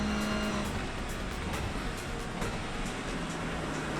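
A race car engine in the iRacing simulator on a rainy track, droning steadily and loudly with constant engine roar and faint repeated tonal shifts, no voices.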